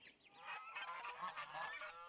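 Geese on a farm raising over 200 different animals honk repeatedly in a chorus of overlapping nasal calls, fairly faint and continuous.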